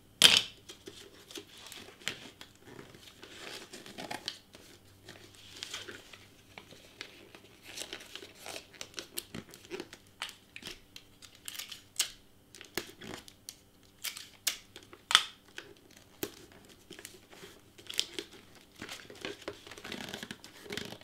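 Scissors trim gift wrapping paper around a small box, with irregular close snips mixed with crinkling and rustling of the paper, quiet and intermittent over a long stretch, no talking.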